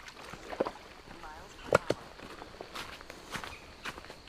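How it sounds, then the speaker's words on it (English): Footsteps cross flagstones over a small creek on a hiking trail in Caesar Creek State Park, a few irregular soft scuffs and taps at close range with faint water and outdoor ambience. "Some nice flagstones to walk across."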